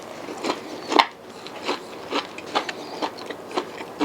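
Repeated crisp crunches, about eight in steady rhythm, close up as fried shrimp or a crab meat hush puppy is chewed, with no talking.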